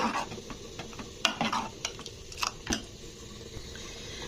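Bottle gourd payesh with fried cashews and raisins being stirred in a pot: a run of irregular spoon clinks and scrapes over a soft background bubble and hiss, close by.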